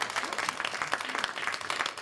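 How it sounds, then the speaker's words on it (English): An audience claps in dense, steady applause throughout a school board of education meeting, a broad even wash of many hands with no voices. "You can clap it up for us."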